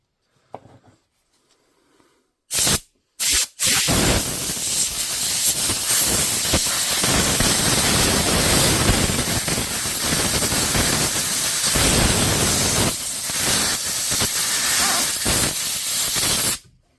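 Brake cleaner sprays from an aerosol can onto a DeWalt power tool motor: a few short bursts, then a long, loud, continuous close-up hiss that stops abruptly.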